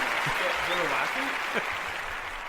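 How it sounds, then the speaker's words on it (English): A recorded applause sound effect plays as steady, even clapping noise for the whole stretch, with people talking over it in a casual podcast setting. "I got the claps."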